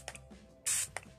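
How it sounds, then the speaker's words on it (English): Brief hiss of an LA Girl Pro Primer setting spray misting onto a face, a single short spritz amid faint quiet handling taps, close and fairly soft. "I'm going to start by priming using the LA Girl Pro Primer Spray."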